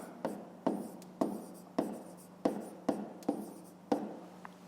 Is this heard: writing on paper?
yes